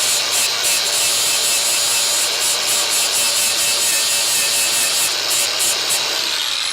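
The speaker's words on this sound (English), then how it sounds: "I basically just want to grind that weld off" An angle grinder removes a weld from a car body during restoration, producing a steady, continuous high-pitched grinding hiss that stays loud throughout with no talk.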